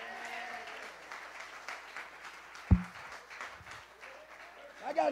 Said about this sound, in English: Come on, clap your hands to the Lord.